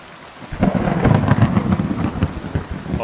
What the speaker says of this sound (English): Oh, those storm sounds are great.